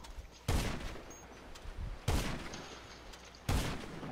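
Three separate heavy gunshots in GTA Online, each a loud sharp blast with a short decaying tail, spaced roughly one and a half seconds apart over a quiet background.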